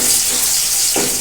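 Noodle ingredients hit hot oil in a pan, giving a loud, continuous hissing sizzle that fills the whole moment with no talking.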